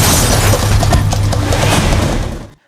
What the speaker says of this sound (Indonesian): Shadow mulai menyerang mobil-mobil anak buah Nanabai hingga semua mobil terbalik dan meledak